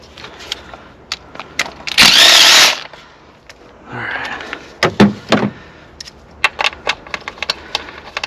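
A wrench spins a bolt loose on a BMW N52 engine during a Valvetronic sensor replacement, giving a burst of broadband ratcheting noise followed by scattered clicks and clanks of tools against metal.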